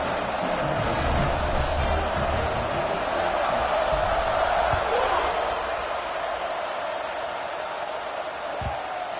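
A stadium crowd at a football game kickoff keeps up a dense, steady roar throughout, loud and continuous, with a commentator talking over it.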